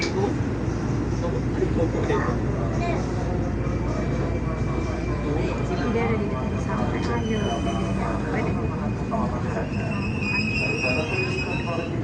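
A KRL commuter train at Pasar Minggu Baru station rumbles steadily throughout, with wheel squeal and high metallic tones rising near the end, and voices talking over the noise.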